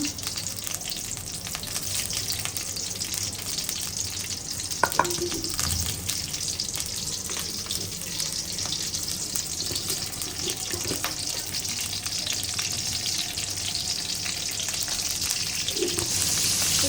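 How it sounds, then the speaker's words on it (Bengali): Fish frying in a pan for a home-cooked Bangladeshi meal, giving a steady, fairly loud crackling sizzle throughout with faint kitchen clatter and no talking. "চিকেন মাছটা দিয়ে দিলাম ভাজার জন্য"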